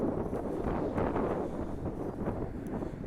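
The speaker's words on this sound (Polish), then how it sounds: "O, teraz wieje mocniej." Wind blows steadily into a microphone, a low rumbling buffet that swells and roars throughout with no voices.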